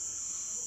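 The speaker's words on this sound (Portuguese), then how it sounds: "Tem barulho de grilo aqui mesmo" Steady, continuous cricket chirping fills the short stretch at a constant level, with no talk over it.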